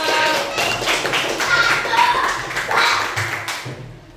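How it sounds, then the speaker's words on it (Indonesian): A class of students clapping for a group, uneven brisk hand claps and taps close by, mixed with chatter, ending abruptly. "Nanti tepuk tangan buat kelompok suara"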